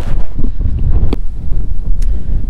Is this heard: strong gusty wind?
yes